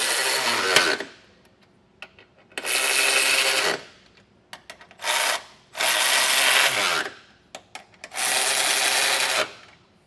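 A 3/4 inch socket on a power tool runs down trailer hitch bolts on a 2023 Genesis GV80, giving four loud, close mechanical bursts of a few seconds each, with short ratchety clicks and clanks between them.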